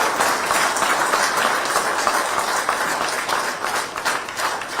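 A crowd claps steadily and fairly loudly at a public speech by Suresh Gopi in Kerala, with the applause running throughout and fading slightly near the end.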